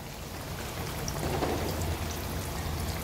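Pieces of surmai (kingfish) frying in hot oil in a pan, a steady dense crackling sizzle throughout with a faint low hum beneath.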